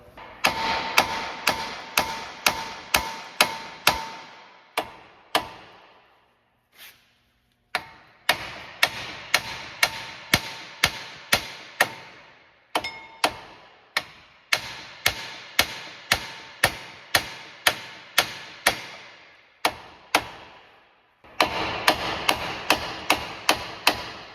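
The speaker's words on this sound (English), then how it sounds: "We're going to use a hammer and hammer on the knuckle" A hammer strikes the steering knuckle of a 2009-2017 Chevy Traverse in a repeated series of sharp metallic blows, rapid and close, broken by a few short pauses.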